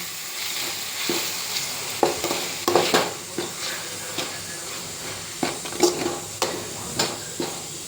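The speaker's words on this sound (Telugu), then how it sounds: "టమోటా దాంట్లోకి సాల్ట్ మొత్తం నీట్గా కలుపుకోవాలి" Tomatoes and salt being stirred in a frying pan for a curry, a soft steady sizzle punctuated by irregular spatula scrapes and light knocks against the pan.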